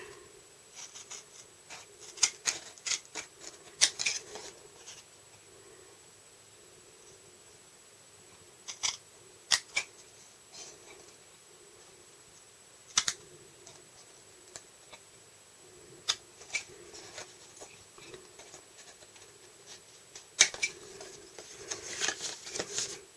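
Scissors cut paper pieces for a mini album, with sparse, quiet, close snips and clicks spaced irregularly across a near-silent background.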